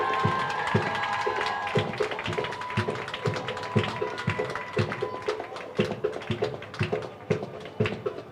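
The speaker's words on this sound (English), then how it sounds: "Give them a round of applause, man." Crowd clapping and cheering at a passing out parade for a graduating batch, steady applause mixed with sharp rhythmic taps from drilling recruits, loud and continuous throughout.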